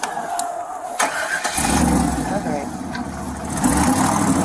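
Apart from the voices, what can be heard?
pickup truck engine starting and driving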